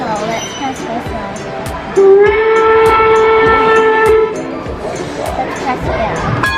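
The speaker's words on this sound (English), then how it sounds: "Let's press whistle." A locomotive whistle in the Henry Ford Museum blows one steady, loud harmonic blast lasting about two seconds, with voices chattering in a busy, echoing hall before and after.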